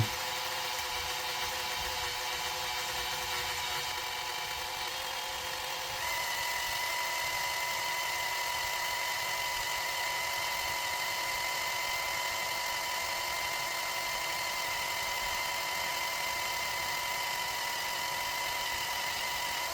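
A drill works slowly through aluminum in a Sig Sauer P320 AXG grip module, a steady whining hum with a sustained tone that shifts pitch partway through, continuous and close with no talk.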